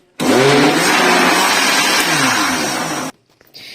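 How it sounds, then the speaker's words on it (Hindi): An electric blender churning cream into homemade butter whirs loudly at full power for about three seconds, then cuts off abruptly into quiet. "इसको फिर से मैं कवर करके चला दूंगी ब्लेंडर।"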